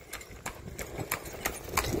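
Horse hooves clip-clop on a street in Yara, Cuba, as a horse-drawn vehicle passes, a steady rhythmic run of hoofbeats over faint background noise and rolling wheels.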